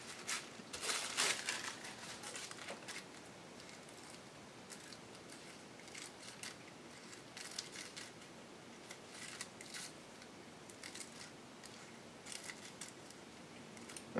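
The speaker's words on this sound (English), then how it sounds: "if you kind of run your scissors along the edge of the score tape, that backing will act as a guide so that you can get a nice, even cut" Scissors run along the edge of score tape, slicing through tissue paper in a soft, continuous crisp snipping and rustling, close and fairly quiet, with no talking.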